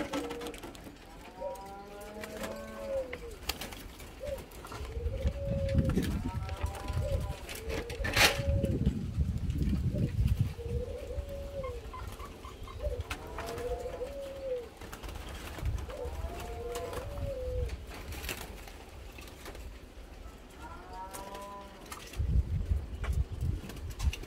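Young spotted doves coo repeatedly in soft, rhythmic phrases close by, with intermittent rustling and handling noises underneath.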